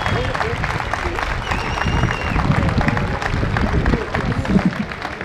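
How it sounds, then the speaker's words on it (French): A crowd at a village thank-you gathering applauds a volunteer band, steady dense clapping filling the whole stretch with some murmuring voices mixed in. "Vous pouvez les applaudir."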